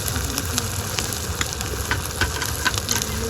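Small new potatoes frying in a pan with chili powder, salt and a little turmeric while being stirred, a steady close sizzle with faint scraping taps and no talking.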